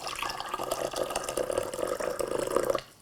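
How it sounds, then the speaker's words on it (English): Freshly boiled water from a kettle is poured into a glass for a hot toddy, a soft continuous trickle and splash lasting a few seconds before stopping abruptly. "finished with 75 millilitres of recently boiled water from a kettle"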